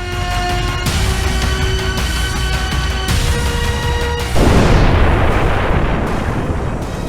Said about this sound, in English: the universe in which we live came into being about 15 billion years ago with a great explosion